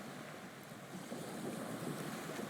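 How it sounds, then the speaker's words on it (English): A ferry's engines drone steadily while crossing open sea toward an island port, with broadband wave and wind noise washing over a low rumble, continuous and fairly distant, no voices. "The ferry engines slow because it is coming in to port."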